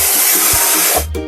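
A spray can hisses as paint goes onto a cherry picker truck in a children's house-building game, one loud, continuous spray burst lasting about a second before ending with a short chime-like tone.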